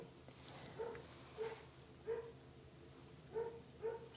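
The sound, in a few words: dog barking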